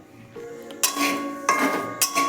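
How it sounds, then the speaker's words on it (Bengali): Metal spoon scraping and clinking against a dry wok while semolina is stirred for a spicy suji breakfast dish, several sharp clanks and scrapes at irregular intervals, close and clear. "3-4 মিনিট এই সুজিটাকে ভালো করে নেড়ে নিচ্ছি।"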